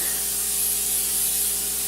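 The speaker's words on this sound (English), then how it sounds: "I also usually spray this, so make sure you spray near the sink." Steady, continuous aerosol spray hisses alone at close range onto a grill drip tray beside a sink, holding an even level for about two seconds before cutting off.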